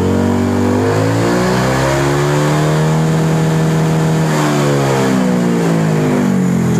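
Honda PCX 160 scooter fitted with a racing exhaust revs hard indoors, a loud continuous engine note that climbs and falls in pitch with a slight echo, no talking over it.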